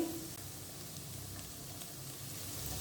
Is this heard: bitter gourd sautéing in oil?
yes